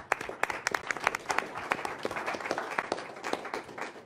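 A modest room of people at a city council meeting claps, a dense patter of applause that holds steady for several seconds, fairly close.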